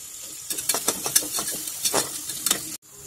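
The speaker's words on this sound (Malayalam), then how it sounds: "ഇതിലേക്ക് പച്ചമുളകും കറിവേപ്പിലയും ചേർത്ത് കൊടുക്കുക" Green chillies and curry leaves hit hot oil in a frying pan, giving a loud crackling sizzle with repeated stirring scrapes, then cutting off abruptly near the end.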